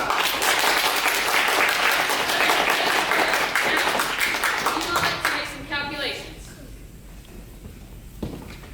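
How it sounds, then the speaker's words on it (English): Theatre audience at a play applauding loudly, a dense sustained roar of clapping for about six seconds before it thins out and fades, with voices murmuring beneath. "I'd like you to applaud as loud as you can now"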